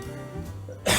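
A single sharp cough bursts out near the end after quiet room tone and a faint low hum, loud and close to the microphone.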